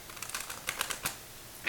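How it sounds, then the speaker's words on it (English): A deck of cards being shuffled for a weekly tarot reading, giving a few quiet, crisp riffling bursts with brief pauses between them and a final short snap near the end, with no talk. "So let's go ahead and shuffle this a couple times, or a few times"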